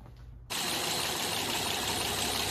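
A 2009 Honda Odyssey engine turns over and catches about half a second in, then settles into a steady, loud idle as it warms up, with no talking.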